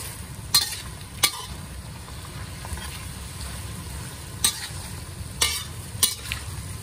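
Bitter gourd sautéed with black salted beans (tausi) in a pan, a steady close sizzle broken by several sharp scrapes and clacks of a utensil stirring, no voices.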